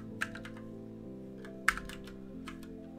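Quiet typing on a computer keyboard, a few scattered keystrokes with one sharper tap standing out over a steady low background hum, no talk.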